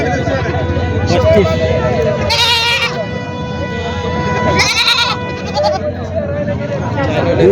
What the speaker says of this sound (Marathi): बकरी